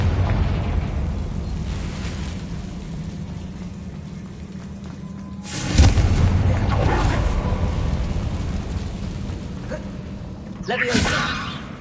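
Spell explosions from a Confringo cast in the video game Hogwarts Legacy: two booming bursts, the second shorter, over a constant bed of game sound and a talking voice.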